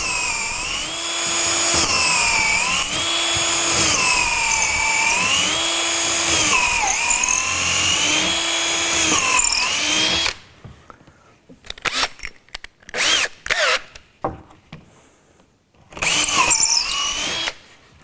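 A power drill bores an 8mm hole through wood for a multiple-bay community permaculture system, its motor whining steadily for about ten seconds with pitch dips under load, followed by several short bursts and stops.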